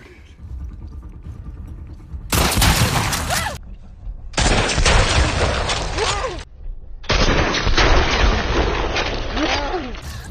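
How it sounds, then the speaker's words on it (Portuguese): Gunfire in The Last of Us Part II, three long bursts of loud, rapid shots with booming impacts, separated by short quieter gaps, close and dominant over faint background game sound. "É muito bom atirar nesse jogo, cara."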